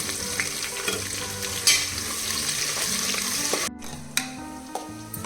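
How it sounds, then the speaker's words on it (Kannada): Pulao spices and chopped onions sizzle steadily in hot oil, a continuous close frying hiss with occasional stirring scrapes and a few sharp clinks of a utensil against the pan. "ಈಗ ಎಣ್ಣೆ ಬಿಸಿಯಾಗಿದೆ ಇವಾಗ ಈ ಪಲಾವ್ ಸ್ಪೈಸಸ್ನೆಲ್ಲ ಎಣ್ಣೆಗೆ ಹಾಕ್ತಾ ಇದ್ದೀನಿ"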